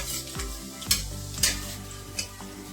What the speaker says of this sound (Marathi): ह्या सर्व भाज्या तेलामध्ये फ्राय करून घ्यायच्या आहेत, पूर्णपणे शिजेपर्यंत परतायच्या आहेत